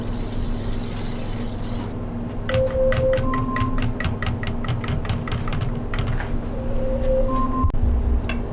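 A whisk beats vanilla pudding mix into two cups of milk, a quick series of sharp clicks against the bowl in bursts over a low steady background hum, with a couple of brief tones and no speech.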